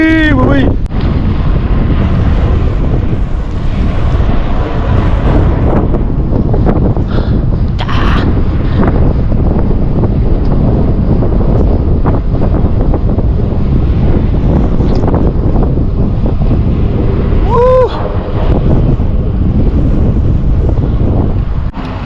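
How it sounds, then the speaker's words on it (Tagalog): Strong wind roars and buffets a microphone during an outdoor bike ride, a loud, constant rushing blast that lasts throughout, with only faint hints of anything else beneath it. "Tingnan nyo, narinig nyo yung hangin."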